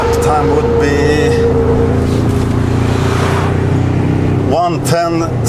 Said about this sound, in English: I'm impressed of the gearbox because the gears are jumping in pretty quick